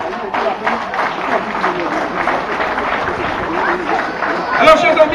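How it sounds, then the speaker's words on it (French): An audience at a town association parade event in Le Carbet applauds, a broad continuous wash of clapping mixed with crowd murmur and babble, steady and fairly loud throughout with a brief swell near the end. "Je voudrais que vous les applaudissiez."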